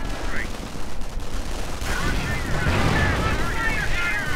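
Gunfire and distant booming from a World War II real-time strategy battle, with rifle shots cracking through a dense, rumbling wash of combat noise; no clear speech over it.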